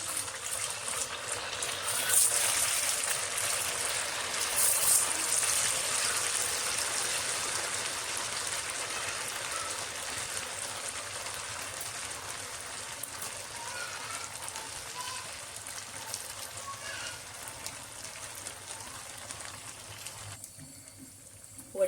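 Sabudana vadas deep-frying in hot oil give a steady, dense sizzle and crackle that swells early on and then gradually settles over about twenty seconds, with no talking.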